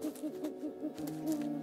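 An owl hooting in the video game Creepy Tale 2, a run of soft, rhythmic hoots repeating quickly, then a longer drawn-out call, fairly quiet and alone.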